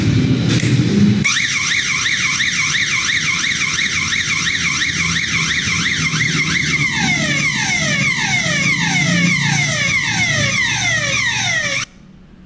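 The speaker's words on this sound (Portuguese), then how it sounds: "Quando é cortado o cabo, ela gera o alarme." A perimeter electric fence control unit sounds its alarm after the cable is cut: a loud, continuous electronic siren warbling up and down rapidly, then switching to a faster repeating sweep before cutting off abruptly, with no talking.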